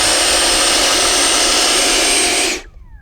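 Motor of a Freewing F-16 Arctic Camo V3 RC jet with a 70mm electric ducted fan: a loud, steady high-pitched roar runs close up, then spools down quickly and fades near the end.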